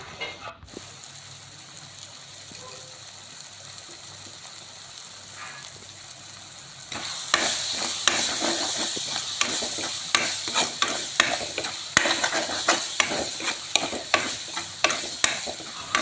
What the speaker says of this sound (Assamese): আমি লৰাই লৰাই ভাজি থাকিব লাগিব কেৰাহীখন এৰি নিদিয়ালৈকে